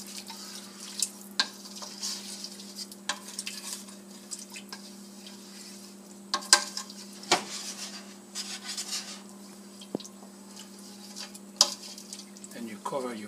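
Quiet stirring of rice and fish stock in a paella pot, with scattered scrapes, clinks and light liquid sloshing over a steady low hum.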